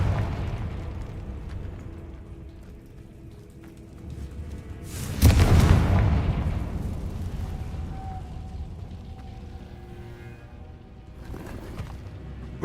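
A single Confringo spell explosion in the video game Hogwarts Legacy bursts out mid-way as a loud fiery boom over low game ambience, followed by a fainter whooshing burst near the end.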